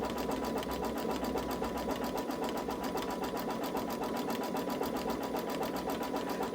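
A Babylock Solaris embroidery machine runs a satin stitch, a steady, fast, even mechanical whirr with a dense needle rhythm that holds constant and close throughout, with no voices.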